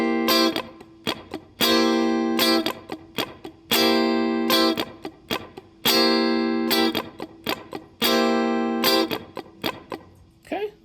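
An electric guitar plays a funk rhythm pattern of short sustained chord hits alternating with scratchy muted strums, in a punchy repeating cycle. The tone is slightly effected, and no one talks over it.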